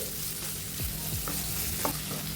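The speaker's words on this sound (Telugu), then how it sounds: "ఇప్పుడు ఇందులోకి ఉల్లిపాయ తరుగు వేసుకోవాలి ఉల్లిపాయను కూడా కాస్త ఫ్రై చేసుకోవాలండి" Chopped onions fry with garlic in a pan, a steady broad sizzle with a few soft stirring scrapes and taps of a spoon against the metal, close and continuous with no voices.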